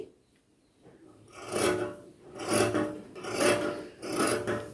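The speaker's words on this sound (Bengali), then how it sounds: "এখন কাপড়টা আমি কেটে নিচ্ছি" Scissors cut blouse fabric along a curved line for a puff sleeve, making four close, rhythmic rasping strokes separated by brief pauses.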